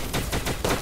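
Rapid gunfire in the video game Starbound, a fast, even burst of about six loud shots in under a second.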